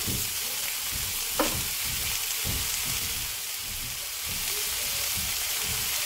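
Poblano peppers fry in a hot pan with a dense, steady sizzle, broken by a few soft stirring scrapes and one brief clink, close and fairly loud, with no voices.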